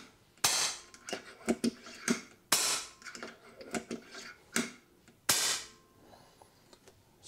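An FX Dreamline air rifle fires several sharp, snappy shots spaced a second or so apart, each followed by faint mechanical clicks from handling, close and alone.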